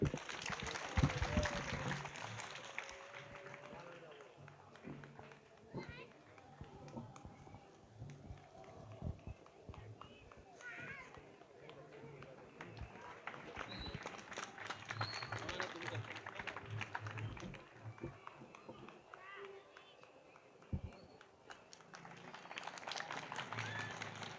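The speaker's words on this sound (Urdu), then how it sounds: "تالیوں کے ذریعے سواگت کرے بھائی۔" Audience at a religious lecture gathering at Nurani Masjid applauding to welcome guests onto the stage: faint, scattered clapping that swells and fades over about twenty seconds, with talk mixed in underneath.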